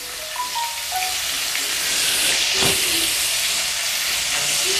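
Chilies dropped into hot oil in a pan for Indonesian sambal cooking give a steady, close frying sizzle and hiss that runs throughout, with faint clinks and brief tonal sounds over it.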